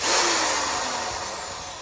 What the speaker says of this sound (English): This is my hammer drill, 7/32 bit. I'm going to drill right into it, right into the hole.